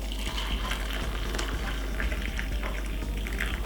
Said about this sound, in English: What I'm going to do is pop some hot water in the glass like this.